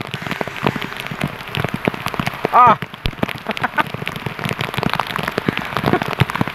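Heavy rain pouring during typhoon Enting, a dense constant patter of drops hitting surfaces nearby, with a brief shout and some talking over the downpour.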